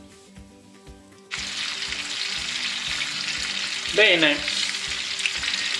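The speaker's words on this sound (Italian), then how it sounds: "Abbiamo scaldato con un po' di olio anche un po' di burro, abbiamo messo dentro lo spicchietto di aglio" A garlic clove fries in heated oil and butter for a wild pigeon breast dish, giving a steady close sizzle that starts abruptly and carries on. A brief clatter is heard midway, and a voice speaks a single word at the start.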